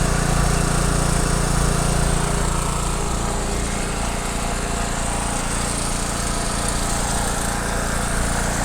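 A petrol generator engine runs on choke, a steady, loud, unbroken close-up drone with no talking.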